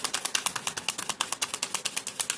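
Tarot cards shuffled by hand in a quick, steady run of crisp riffling snaps, about a dozen sharp bursts in just over two seconds, close and fairly quiet with no talking over them.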